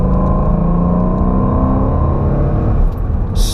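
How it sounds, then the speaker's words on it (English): A completely stock exhaust on a 2012 Ford Mustang GT with its V8 engine, droning loudly and steadily close by, a sustained rev held throughout with no voices. "This is a stock exhaust, completely stock."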